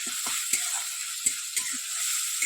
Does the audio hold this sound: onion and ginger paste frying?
yes